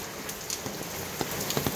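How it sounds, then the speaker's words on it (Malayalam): Heavy rain drumming on a temple roof in Kerala, a dense continuous patter with scattered louder drops. "ഇതപ്പോ നല്ല മഴയാണ്"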